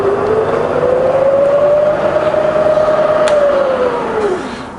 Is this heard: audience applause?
no